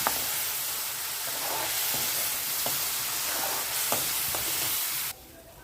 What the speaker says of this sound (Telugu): ఇప్పుడు టొమాటో ప్యూరీని యాడ్ చేస్తున్నాను అది కూడా చక్కగా పచ్చివాసన పోయేంత వరకు వేయించుకోవాలండి